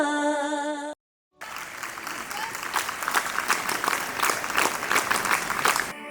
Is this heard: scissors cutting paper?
no